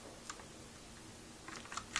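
Keys clatter on a Ducky multimedia keyboard in a few quiet, irregular taps and a short closing flurry, heard close up with no talking.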